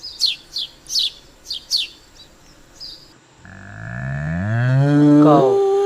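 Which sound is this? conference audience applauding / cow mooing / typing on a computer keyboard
cow mooing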